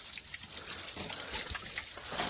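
Spring water trickling out of rock in a small cave hideout by the Strawberry River, a soft steady dribbling wash with faint drips throughout.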